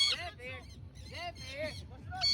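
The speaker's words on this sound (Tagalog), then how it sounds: "nandito pa yung mga ibon eh" Geese honk loudly and repeatedly nearby at Pinaglabanan Shrine, a rough chorus of overlapping calls throughout.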